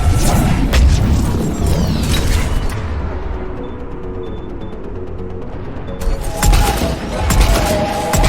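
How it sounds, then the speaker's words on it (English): Harvester weapon fire in the video game Mass Effect, a loud, dense barrage of booms and crashes, then a brief lull with a high whine, then more blasts rising again. "Harvester's firing on the Turians!"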